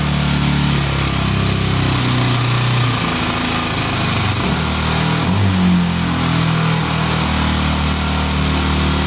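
A Hot Wheels gas go-kart's small engine runs steadily after a pull start, a loud, close, continuous buzzing drone that wavers a little in pitch.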